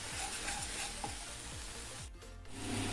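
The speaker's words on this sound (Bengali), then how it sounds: "মশলাটা খুব ভালোভাবে কষিয়ে নেব যতক্ষণ পর্যন্ত মশলা থেকে তেল না রিলিজ হচ্ছে।" Spice masala sizzling and frying in a pan for potol chingri, with steady loud crackle and repeated scraping stir strokes, briefly quieter before resuming.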